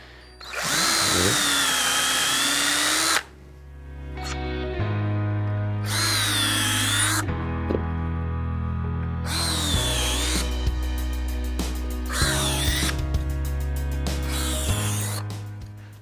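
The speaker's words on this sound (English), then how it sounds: "So that way I drill into the wood, make a nice clean back hole" A power drill whines loudly in bursts, with steady high-pitched motor tone and grinding as the bit bores hinge holes into wooden cabinet doors, separated by short pauses.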